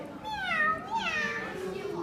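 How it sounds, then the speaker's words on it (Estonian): A lone kitten meows in a children's theatre play: two drawn-out, wavering meows follow each other closely over faint stage background noise. "Ja kuskil naugus üksik kassipoeg."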